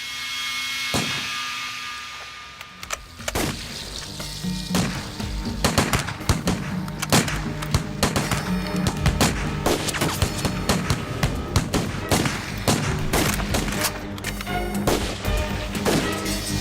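Gunfire in a war film battle scene, dense bursts of loud sharp shots and rapid volleys crackling almost continuously, with heavy impacts layered on top.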